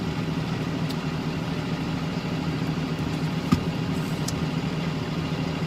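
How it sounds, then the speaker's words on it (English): A school bus idles nearby with a steady, even mid-low engine drone that holds constant throughout, with a brief faint click partway through. "that noise next to us is a school bus"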